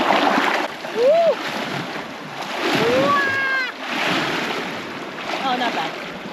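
A boat's wake wave washes up onto the rocks at Black Rocks in Marquette, Michigan, arriving as several surging splashes, close and fairly loud, with voices calling and whooping over the water.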